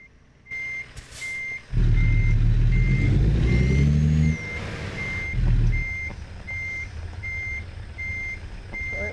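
In American Truck Simulator, a truck backs up toward diesel pumps with an evenly spaced reversing beep pulsing throughout, over a loud low diesel engine rumble that swells and then eases.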